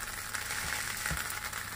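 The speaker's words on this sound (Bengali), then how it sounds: "তাওয়াটা গরম আছে ওই জন্য আওয়াজ আসছে, আর কাঁচা কলা পাতা দেওয়াতে আওয়াজ আসছে" Raw banana leaf, brushed with mustard oil, sizzles on a hot tawa as a faint, steady hiss with no other sounds over it.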